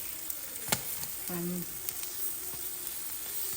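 Halloumi fries in a pan with little oil, giving a steady soft sizzle, faint crackles and a brief clink.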